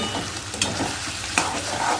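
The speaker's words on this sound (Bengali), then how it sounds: "এগুলো এখন পটপট করে ফুটছে" Oil popping and sizzling in a frying pan as food fries in a home kitchen, with scattered sharp crackles over a steady hiss, close and moderately loud.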